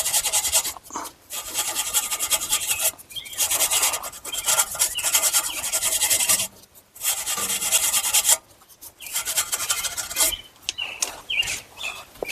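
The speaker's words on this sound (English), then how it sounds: "we're going to again put PB Blaster and a wire brush down here" Wire brush scrubbing a tie rod end nut on a 2018-2025 Buick Enclave, GMC Acadia or Chevy, a rough raspy back-and-forth scraping in steady bursts with a few short pauses, close and fairly loud.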